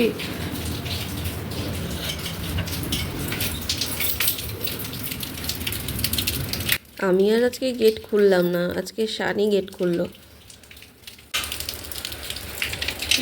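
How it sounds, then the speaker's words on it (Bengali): Steady monsoon rain patters down outside for several seconds as an even hiss with scattered drips, then someone talks close by while the rain continues faintly underneath. "কখন থেকে বৃষ্টি হচ্ছে জানিস রাত থেকে"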